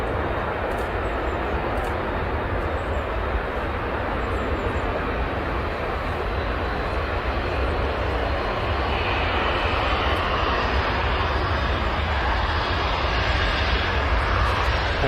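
A TUI Boeing 787 Dreamliner departs Manchester Airport, its jet engines giving a loud, broad, steady roar that swells slightly over fifteen seconds, heard from outdoors.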